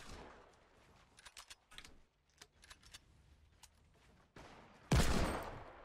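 Scattered shots in a shooter video game, with several quick distant bursts followed by one louder, closer blast near the end.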